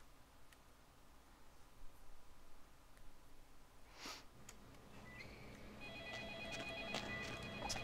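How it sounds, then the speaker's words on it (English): A telephone rings in the video game Vampire the Masquerade: Bloodlines, its electronic tone rising faintly out of quiet background hiss in the last few seconds. "Phone ringing."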